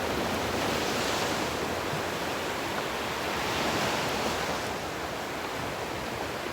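Steady ocean surf washing onto a beach in Southwest Florida, a continuous broadband roar with gentle swells in intensity and no voices.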